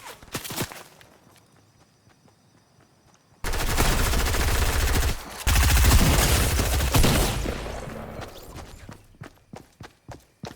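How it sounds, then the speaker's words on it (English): Gunfire in the video game Fortnite: after a quiet stretch with light footsteps, a loud, dense burst of rapid shots roars in for several seconds, then fades away into scattered footsteps. "I gotta shoot at him"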